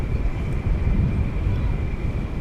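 A Qantas airliner arriving from Sydney at Dallas Fort Worth passes overhead as a low, steady rumble with faint wind noise throughout, fairly distant and unbroken.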